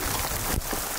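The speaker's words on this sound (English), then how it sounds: "the rain's coming down a little hard right now" Steady hard rain falls around a lake campsite on a Temagami canoe loop, a dense continuous hiss close by with no talking.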